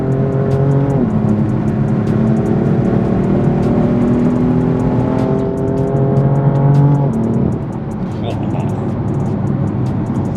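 A BMW M4 Competition F82 engine revs hard and climbs in pitch as it accelerates, loud and close, then drops off abruptly after a few seconds.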